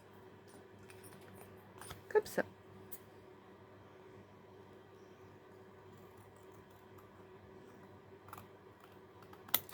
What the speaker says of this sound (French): je vais maintenant couper ça